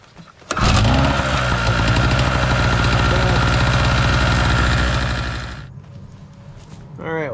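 A Chicago Electric two-stroke portable generator engine, started without choke, roars loud and steady for about five seconds, then cuts out and runs down, leaving faint rattling and a brief voice near the end.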